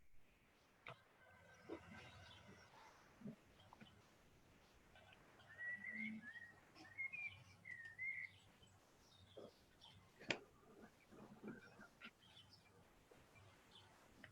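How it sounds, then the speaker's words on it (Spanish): Birds chirping and singing outside an open window, several faint high calls scattered across the background, with quiet room noise and occasional clicks and knocks. "los pájaros de fondo creo que son los de la ventana, que ha abierto la ventana y siguen los pájaros"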